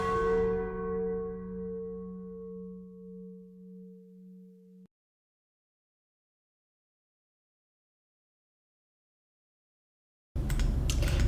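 A bell in an animated comic trailer gives one long tolling ring that decays over about five seconds, followed by silence and then a burst of noisy sound.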